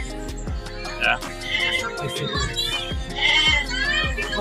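Goats bleat repeatedly at a goat market at Semuli Raya, several short nasal calls from close by mixed with people talking and general market bustle.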